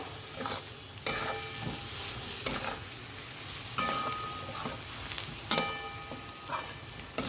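Mutton with onions and spices stir-fried for mutton kosha, a continuous sizzle broken by repeated scraping spatula strokes and occasional clinks against the pan, close and fairly loud.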